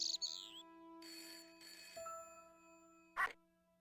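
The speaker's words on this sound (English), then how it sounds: "Oh, is that a phone?" In the video game Broken Sword, a telephone gives two electronic ring bursts with a steady held tone beneath, followed by a brief sharp chime, moderately quiet and with no voices over it.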